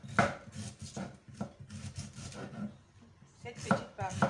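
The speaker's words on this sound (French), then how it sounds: "Donc là, j'ai mis mon chou. Il reste la petite partie là que je dois couper aussi." A knife chops cabbage on a board for a saka-saka preparation, a string of crisp, close, uneven chopping knocks with short pauses in between, no talk.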